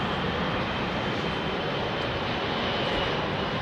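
A Boeing 767 airliner climbs out after takeoff from London Heathrow, a steady broadband engine roar held at a moderate distance without any break.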